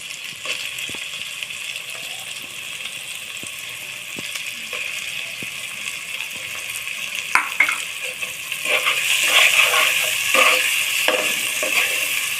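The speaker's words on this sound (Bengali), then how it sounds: "টমেটো কুচি দিয়ে আমি নেড়ে করে একটু ভাজা ভাজা করে নেব" Spice paste frying with chopped tomatoes in a pan for chickpea curry, a steady close sizzle that grows louder and busier toward the end, with a few clicks of stirring.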